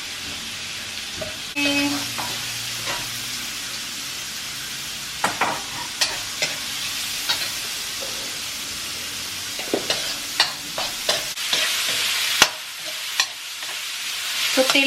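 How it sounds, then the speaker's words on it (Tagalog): Garlic, red onion, ginger and paprika sauté in hot oil in a pan, a steady close sizzle punctuated by repeated scraping stirs of a utensil, with one brief spoken word. "Tapos, ilagay natin yung chop natin na garlic, red onion, ginger, paprika."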